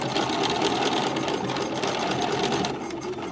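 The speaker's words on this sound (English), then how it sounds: "We're just sewing to the edge like this." Sewing machine stitching along the opening edge of a garment, a fast continuous mechanical chatter, close and steady, easing off slightly near the end.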